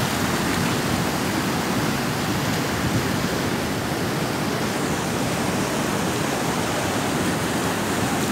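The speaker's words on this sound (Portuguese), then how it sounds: "que força, né, da água, da natureza." The Piranhas river pours through the open breach of the Oiticica dam as a powerful, unbroken roar, loud and even like a waterfall, filling the whole clip with no speech.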